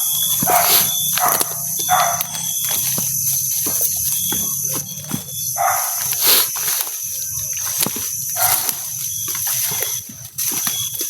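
A dog barks intermittently at some distance over a steady outdoor backdrop of insects chirping.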